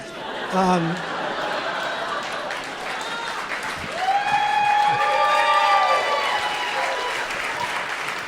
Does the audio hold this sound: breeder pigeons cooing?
no